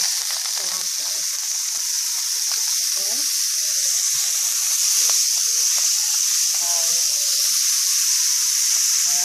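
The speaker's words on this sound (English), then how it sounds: "what I do with the remaining oil in the pan is add the green onions" Green onions hit hot leftover shrimp oil in a pan and sizzle steadily, a dense, even crackling hiss that holds for the whole stretch, with small pops and clicks scattered through it.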